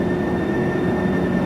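A train runs alongside a Volvo 9600 bus on an Indonesian road as the bus overtakes it, giving a steady, close rail rumble and rolling noise with no talk.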